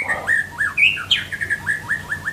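A white-rumped shama sings loudly and close by, a rapid series of clear whistled chirps and slurred notes repeating in a lively rhythm.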